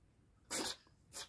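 A pet cat sneezes twice in quick succession, short sharp bursts close by with quiet between them.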